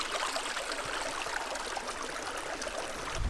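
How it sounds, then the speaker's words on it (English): A small natural stream of water trickles steadily outdoors, a continuous broadband babble that stays close and even throughout, with no talk. "it is indeed a water source."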